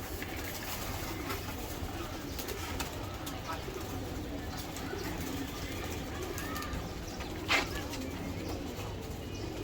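Racing pigeons cooing softly among background noise, low repeated coos with an occasional brief bird call, and faint voices nearby.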